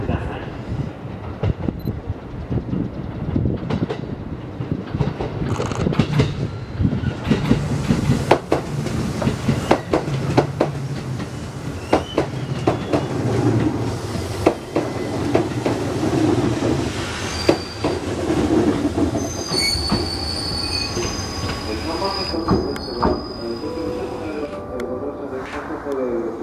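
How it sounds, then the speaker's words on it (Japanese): A JR Central Class 211 train rolls into a station with a steady rumble, clacking wheels and a high squeal of brakes toward the end, while announcements play over it. "列車が到着します。"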